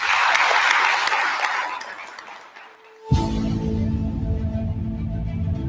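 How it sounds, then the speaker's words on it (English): A crowd at a live podcast Q&A claps loudly, then the applause gradually fades away before an abrupt cut to a different, steady tonal sound. "All right, guys, let's clap it up."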